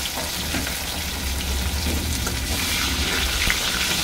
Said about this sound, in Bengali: মানকচুটা হালকা ভাজা হবে